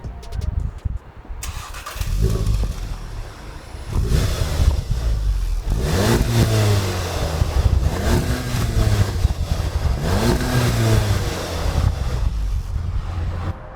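A stock Mk7 facelift VW Golf R starts up and revs, the engine catching with a bark, then climbing and falling through three or four rising revs, loud and close, with some wind noise.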